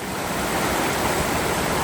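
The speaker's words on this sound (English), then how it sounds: "A river crossing that actually has some spunk." A lively stream rushes across an icy river crossing on the Appalachian Trail, a loud, steady wash of flowing water close by with no voices.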